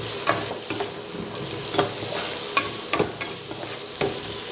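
Onion and turmeric sizzling in a frying pan while being stirred for fried mini idli, a continuous close frying hiss broken by regular scraping stirs of the spoon.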